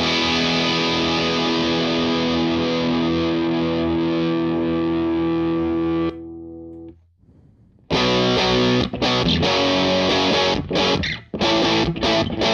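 Bearfoot Dyna Red distortion pedal with its mid control cranked up, a loud saturated guitar chord ringing out for several seconds, a brief near-silent gap, then dense strummed distorted chords.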